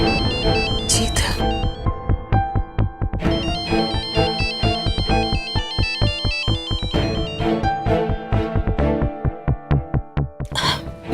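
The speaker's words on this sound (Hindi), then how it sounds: "मैं ये फोन ले लूं प्लीज?" A phone ringtone plays a loud, repeating electronic melody in a household setting, with rhythmic pulses throughout the whole stretch.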